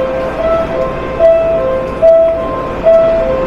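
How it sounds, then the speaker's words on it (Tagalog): A Tokyo train near Ueno station sounds a repeating two-note electronic chime over a steady low rumble, the chime phrase recurring several times at fairly close range. "Ito yung tren nila."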